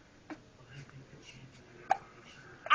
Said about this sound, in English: Go away, hiccups.